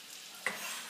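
Shallots and garlic cloves sizzling in olive oil in a pan, a steady soft hiss that jumps briefly in level as something is stirred or dropped in.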